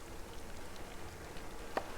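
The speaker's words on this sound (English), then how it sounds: "It's starting to rain." Steady soft rain falls in the video game Buoyancy, a fine continuous patter with one brief sharper drop near the end, quiet and without talk.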